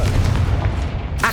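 A Confringo spell explosion in the video game Hogwarts Legacy makes a loud, booming blast with a low rumbling tail, followed by a brief sharp crackle at the end.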